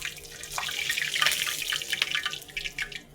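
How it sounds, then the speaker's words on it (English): Water poured into hot oil in a cooking pan while tomatoes fry gives a loud, steady crackling hiss with bursts of sputtering, close by and with no talk. "Be careful when adding water to oil."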